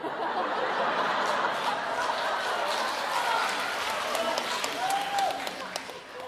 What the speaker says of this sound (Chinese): 但是大家鼓掌了。